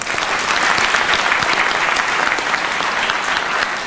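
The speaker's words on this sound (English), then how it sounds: "could we give Nelson Mandela a round of applause?" Loud, dense audience applause for Nelson Mandela during a keynote address at a Malaysian conference, a steady wall of clapping with no voices over it.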